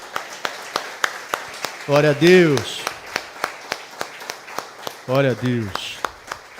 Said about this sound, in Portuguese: Você pode aplaudir ao nosso Senhor,